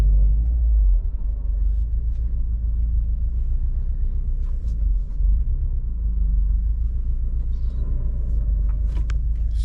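Subaru VA WRX after a power steering pump replacement, cruising on a test drive: a steady low road rumble and engine drone inside the cabin, continuous throughout with faint occasional clicks and no talking.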